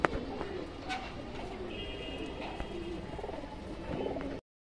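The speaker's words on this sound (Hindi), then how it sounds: "देखो कबूतर" Kamghar pigeons coo softly and repeatedly among other bird calls in a loft, with a low continuous murmur of cooing and some background noise throughout.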